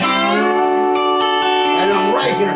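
A lap steel guitar slides up into a D, followed by sustained ringing harmonic tones with pitch glides, close and fairly loud, with a voice briefly overlapping near the end.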